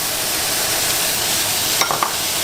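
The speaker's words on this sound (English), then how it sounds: "We'll go ahead and stir those vegetables around with your roux" Vegetables for chicken and sausage gumbo, okra held back, are stirred into a hot roux in a pan pulled off the heat, giving a steady close hiss of sizzling with a few soft scrapes of the spoon near the end.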